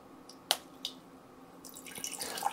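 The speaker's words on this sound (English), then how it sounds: "I'm gonna go ahead and use the Life Straw to just fill up this glass" Water trickles and drips into a glass from a LifeStraw filter setup fed by sump well water, with a few sharp drips followed by a thin, rising flow, close and fairly quiet.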